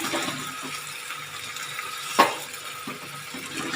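Water poured into a pot of mango pickle being cooked with sugar, a steady soft splashing trickle with one brief sharper splash midway, no talking.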